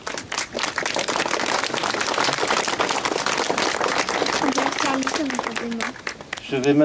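Audience applause at an outdoor commemoration ceremony in Bessans, following a song performance; dense sustained clapping fills the whole stretch, with a voice and a brief tone near the end.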